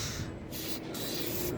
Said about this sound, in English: Spray it for some shininess in your headlight.